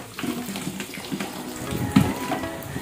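Water runs from a kitchen tap into a sink as raw beef is washed under the stream, a steady splashing rush with small sloshing bursts and a few clunks of handling, no speech.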